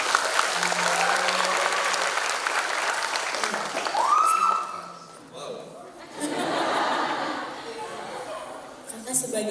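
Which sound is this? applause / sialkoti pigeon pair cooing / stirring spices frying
applause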